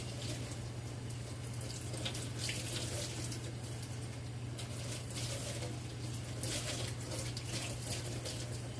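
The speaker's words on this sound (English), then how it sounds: "Always rinse out sponges" Water runs steadily from a tap as a sponge is rinsed under it outdoors, a continuous close splashing hiss with a faint low hum underneath and no talking.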